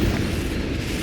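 Confringo fire spell blast in the Hogwarts Legacy video game, a dense rumbling explosion that roars loudly and steadily for about a second with no break.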